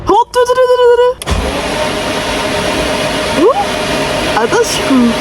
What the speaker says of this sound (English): Now we're gonna start the car without spark once again to lube the engine up with the oil.